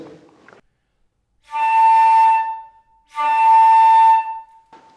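A flute harmonic played with too much air and a tight embouchure, sounding as two sustained, strained tones separated by a short gap, close and fairly loud.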